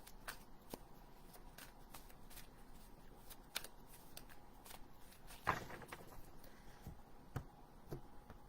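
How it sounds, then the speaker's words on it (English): Cards are shuffled quietly and close by, a series of soft riffling flicks and taps at irregular intervals, with one slightly louder snap midway. "So we're going to shuffle the cards up."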